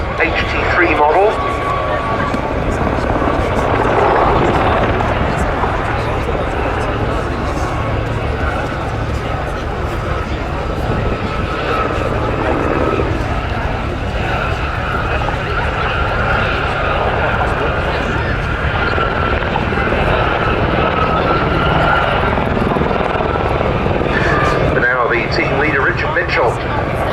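Westland Gazelle HT3 helicopters fly in formation at an air show, a steady broadband rotor and engine drone that holds throughout, with a commentator talking over it.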